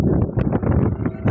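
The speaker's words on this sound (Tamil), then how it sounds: "இப்போ கடல் பார்த்தீங்கன்னா நல்லா காற்றடிக்குது" Strong wind buffets the microphone aboard a fishing boat out at sea, a steady rough rumble that gusts and pulses, heard close with no clear talk.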